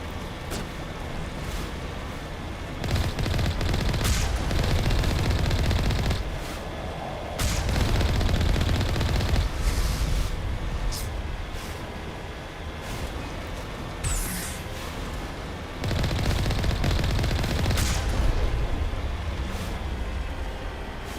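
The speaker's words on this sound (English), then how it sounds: "Reaper is a good gun." The Reaper gun firing in Mass Effect, loud sustained bursts lasting several seconds each, separated by brief lulls, with rumbling low-end weight and sharp crackling transients throughout.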